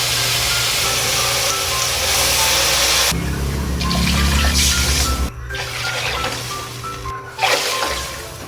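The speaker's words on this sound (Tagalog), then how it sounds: "Tapos, lalagyan na po natin ng tubig." Water pouring into a pan of sautéed vegetables and shrimp for pansit bato, a gushing splash that swells midway and then fades to a quieter hiss, close up and with no talking.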